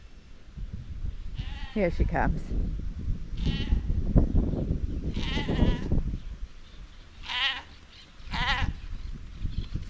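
Sheep bleat several times, loud and near, in wavering cries spread across a field, with people talking and calling over them.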